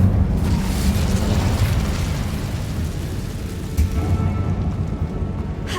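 Roaring fiery blast of the Incendio spell in Hogwarts Legacy, a dense rumbling burst of flame that sustains loudly throughout with crackling texture and no pause.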